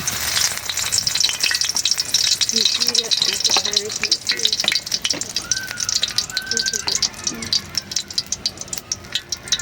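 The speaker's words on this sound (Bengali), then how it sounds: "কড়াইতে তেল দিয়ে দিছি, এখন দিয়ে দেবো তেজপাতা আর 2টা শুকনো মরিচ।" A bay leaf and two dried red chillies go into hot oil in a kadai and crackle with close, busy sizzling. Sharp pops and stirring clatter come through it, and some faint birdsong sits in the background.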